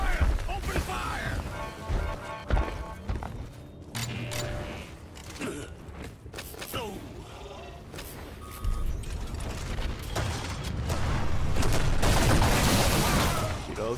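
Rapid gunfire bursts in the sci-fi monster-hunting game Evolve, dense clattering volleys mixed with mechanical clanks and crashes, loud and sustained across the fight.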